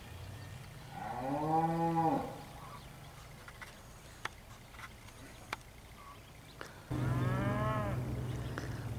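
Heifers from a North Carolina farm mooing at a cattle sale, two long loud moos a few seconds apart over quiet background noise with a few faint knocks between them.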